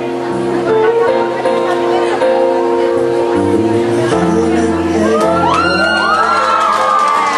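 A crowd cheers, whoops and shouts loudly and steadily, mixed with music, with rising calls near the end.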